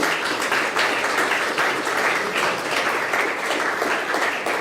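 Applause fills the space: an audience at the opening of a forest and climate gathering clapping steadily and evenly throughout, a dense wash of many hands with no voices over it.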